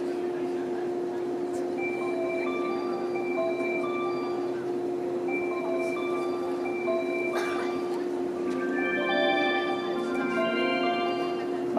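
A JR West 227 series eight-car train pulls into platform 3 at Itozaki Station, Japan, with a steady mechanical hum, high-pitched tones and chimes ringing out over constant station noise.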